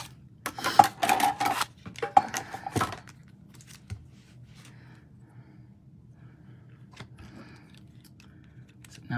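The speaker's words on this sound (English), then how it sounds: "I usually cut my cardstock first and then cut the adhesive sheet to go with it." Scissors snip through cardstock and an adhesive sheet in a quick cluster of close, crisp cuts over the first few seconds, then near silence with a couple of faint taps.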